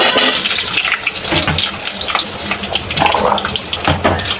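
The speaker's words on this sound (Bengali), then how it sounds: "লাল শুকনা মরিচ দিয়ে দিব আটটা একটু ভেজে নিব পেঁয়াজ আমি বড় করে কেটে নিয়েছি পেঁয়াজ দিয়ে দিব" Onions and dried red chillies fry in hot oil in a pan, making a steady, loud, close sizzle with crackling throughout.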